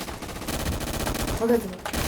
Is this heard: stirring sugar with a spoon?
no